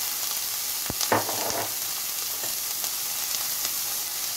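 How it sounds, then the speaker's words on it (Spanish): Onion is dropped into hot oil in a clay cazuela for corn soup. A steady, moderate sizzle runs throughout, with a few clinks and a short burst of spattering near the start, and no one speaks. "Le ponemos el aceite a nuestra cazuela. Ponemos la cebolla,"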